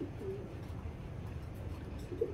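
Soft, low cooing from a racing pigeon at a loft, quiet and fairly close, with a faint murmur of background noise.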